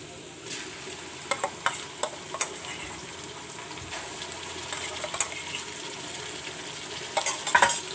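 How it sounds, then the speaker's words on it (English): Ginger garlic paste frying with onion in a pan, a soft steady sizzle broken by spoon stirs and occasional light clinks against the pan. "I will fry the ginger garlic along with the onion."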